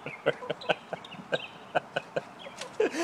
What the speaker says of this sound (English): This chicken waits by the door all day for you to open it.